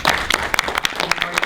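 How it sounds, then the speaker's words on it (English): An audience at a lighting workshop at Pinewood Studios claps for a model, a close burst of sharp, uneven hand claps that stays lively through the short stretch. "let's give our model a round of applause"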